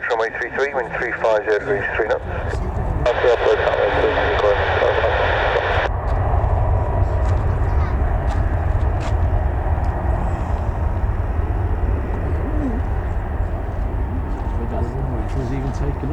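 A fixed-wing airliner taking off at Birmingham Airport roars steadily and loud throughout, with air traffic control radio chatter heard over the engine noise in the first few seconds.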